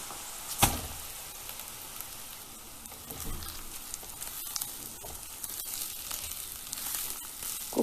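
Rice and onions fry in a pot over medium heat for a mujadara of rice and lentils, giving a continuous soft sizzle with a sharp knock near the start and light stirring crackles throughout.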